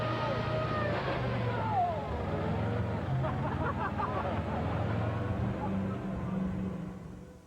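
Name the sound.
big engine of the old Stolly revving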